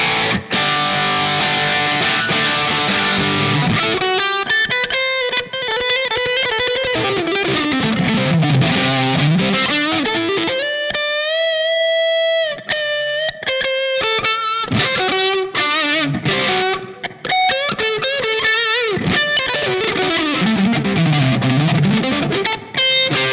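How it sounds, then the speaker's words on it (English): Electric guitar through a Line 6 Pod HD500 classic distortion setting with a bright Plexi-style amp model, playing loud, saturated riffs and sustained bent notes with chords and brief pauses, alone and close. "Let's start with the classic distortion."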